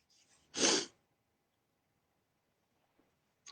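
A single sneeze bursts out loud and close in an otherwise quiet room during a guided energy meditation session, followed by silence with a faint click near the end.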